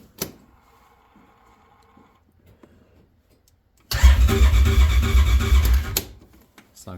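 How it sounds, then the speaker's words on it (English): A side-by-side UTV engine, freshly swapped, turns over and catches after a quiet pause, then runs loud and rough for about two seconds before cutting off, close up with no talk. "All right, we got the motor back in. The old one's in timeout. And, yeah, it turns over,"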